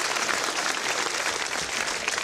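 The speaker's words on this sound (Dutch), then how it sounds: "Ja, een applaus." Dense, steady applause from a crowd at a fierljeppen (canal pole-vaulting) final, honouring the senior-category winner, with continuous close clapping throughout.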